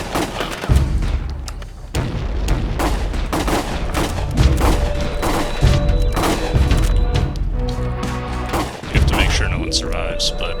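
Sustained gunfire in the video game Tokyo 42: dense, loud volleys of sharp shots and booming thuds crackle steadily for about ten seconds, with bursts overlapping and a few heavier impacts standing out.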